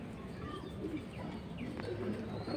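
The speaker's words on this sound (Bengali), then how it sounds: "সুন্দর সুন্দর কবুতর চলে যাচ্ছে।" Pigeons coo softly at a pigeon sale, with faint chirps over a steady, noisy background of crowd bustle and no clear speech.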